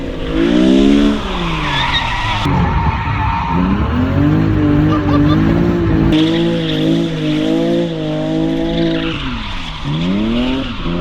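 A car's tires skidding and squealing hard through corners while driven with little front grip, loud wavering screeches rising and falling over the engine, close up, repeated across several turns.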